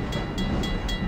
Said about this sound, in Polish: Jestem na złotym pociągu!